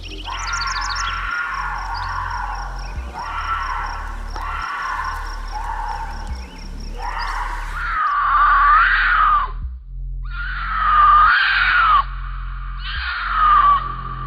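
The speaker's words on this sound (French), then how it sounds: "Voici plusieurs extraits différents que j'ai pu trouver sur YouTube de cris de puma." A puma (cougar) gives a series of loud, drawn-out, wavering screams that resemble a woman shrieking. Several calls follow one another over about fourteen seconds, played back as recordings over a steady low hum.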